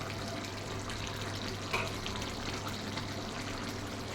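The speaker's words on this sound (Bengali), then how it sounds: "গ্রিন মটর ভালো করে নাড়াচাড়া করে নেব" Green peas being stirred and cooked in a pan for a pea and mushroom curry, giving a steady soft sizzle with light scraping, alone, fairly quiet and continuous.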